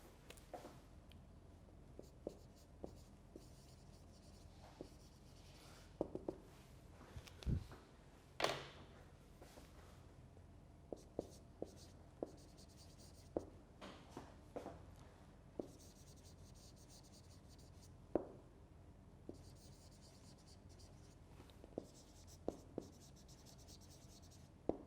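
Pen or marker strokes writing in red during an online English lecture, scattered scratchy taps and short scribbles spread across the clip at low level, with no talk.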